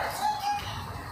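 A person imitates a rooster crowing during a family party game, one short, sustained and fairly loud mock cock-a-doodle-doo call with no talk around it.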